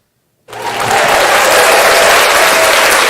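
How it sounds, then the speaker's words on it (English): After a brief silence, a studio audience breaks into loud, sustained applause, a thick, steady wash of many hands clapping close by that continues to the end. "You didn't give her an applause."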